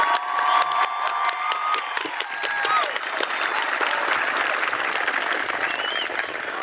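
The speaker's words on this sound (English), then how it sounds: "Let's give them a round of applause." An audience claps steadily for a graduating high school class of 2021, a dense roar of applause with scattered cheers and whoops lasting several seconds at a large ceremony.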